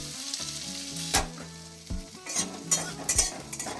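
Ginger frying in a pan for a vegetable sandwich filling gives a busy sizzle broken by sharp, repeated spatula scrapes and knocks against the metal, close and fairly loud with no voices.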